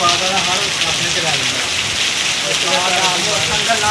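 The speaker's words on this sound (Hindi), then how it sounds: "बारिश पै रही है बहुत ज़्यादा" Heavy rain pours down in a loud, unbroken hiss of dense drops hitting nearby surfaces, steady from start to finish.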